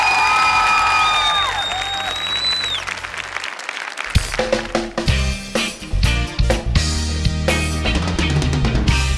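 An audience at a gala show bursts into loud applause and cheering for a singer, starting abruptly after a held vocal note and continuing as rhythmic clapping under music.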